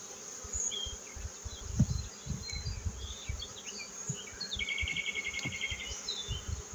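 Honeybees hum around an open hive during colony work, a steady close buzz with insects passing near, under occasional soft handling knocks and faint birdsong.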